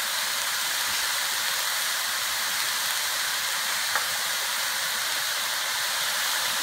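Onion, ground beef and mushrooms sizzle in a pan while being cooked down for chili, giving a steady, loud, broadband hiss that runs unbroken and alone, with one faint tick partway through.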